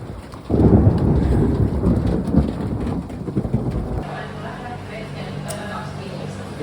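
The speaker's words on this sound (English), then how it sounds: "We're getting rained out again. Oh my goodness, lightning." A thunderstorm with rain at a castle, where a heavy burst of rain and rumbling thunder breaks in suddenly. It then thins to a lighter steady patter with dripping.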